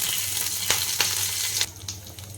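Fenugreek seeds and a bay leaf tempering in hot oil in a pan while preparing a raw banana curry, a steady close sizzle with a few sharp crackling pops, easing slightly toward the end.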